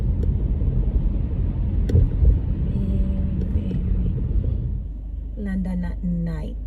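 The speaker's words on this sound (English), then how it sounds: "I like driving at night." A car drives through London at night, its engine and road rumble steady and close inside the cabin, with a brief tonal chime and a few short sounds near the end.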